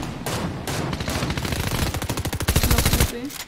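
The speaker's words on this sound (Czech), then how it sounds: "Slyším dopady, slyším střelbu." Rapid bursts of automatic gunfire in Fortnite rattle in quick succession, loud and close, with a few single shots before the volleys.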